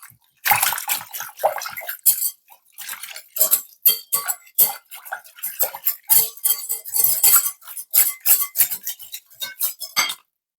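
A metal whisk clinks and scrapes rhythmically against a bowl while dissolving coconut cream, in quick, close bursts with brief pauses between strokes.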